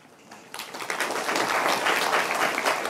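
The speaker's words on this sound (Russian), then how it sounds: "не обязательно хлопать мне все время" Lecture audience breaks into applause during a talk on memory and learning, starting after a brief quiet moment and swelling into steady, dense clapping from many hands that fills the room.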